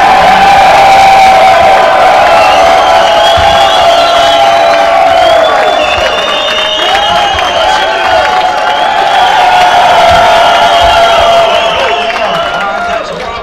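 A large crowd of fans at a Boise State football event cheers and whoops loudly and continuously, with sustained shouts and yells rising and falling, a dense wall of noise close around the listener.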